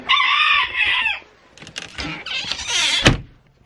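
Chickens cluck and a rooster crows inside a backyard coop holding Novogen and Easter egg layer hens, with loud, close calls in quick succession and no talking.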